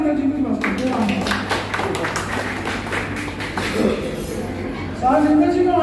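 An audience at an anniversary gathering of K.T. Kala in Amritsar, Punjab claps for Narendra ji in a quick rhythmic patter lasting several seconds, and a voice talks over the start and end.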